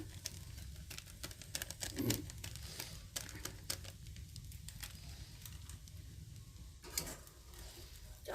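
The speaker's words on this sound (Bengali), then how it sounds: "সাদা তেলের মধ্যে এগুলো ভাজতে হবে।" Vegetables for a Bengali-style veg chow mein frying in white oil, a soft steady sizzle with scattered crackles and patters of stirring, moderately quiet throughout.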